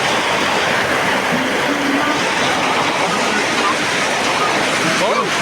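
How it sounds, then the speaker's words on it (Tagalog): Dense, loud hiss of heavy rain pouring steadily, a broad roaring wash with faint voices buried underneath. "Lakas ang ulan guys oh."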